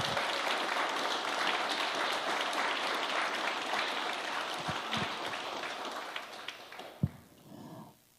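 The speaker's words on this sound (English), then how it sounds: "please join me in giving one last round of applause of congratulations to all of" An audience at an awards event gives a sustained round of applause for the award recipients. The dense clapping fills the room steadily, then tapers off near the end.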